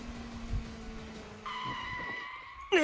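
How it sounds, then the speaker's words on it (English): Motorbike tires screech in a sudden skid during a near miss in the game DRAMAtical Murder, a rising squeal that holds steady over a low engine hum and ends in a sharp burst, with no talking. "I almost get hit by a motorbike when I turn at the corner while running."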